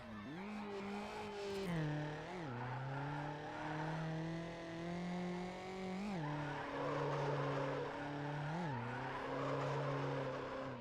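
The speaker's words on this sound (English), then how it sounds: "This engine sounds like an angry dog crawling at you." Car engine in the racing game Need For Speed Underground, a loud, continuous snarling drone that rises and falls with revving and gear shifts, accompanied by tire squeal and skidding throughout.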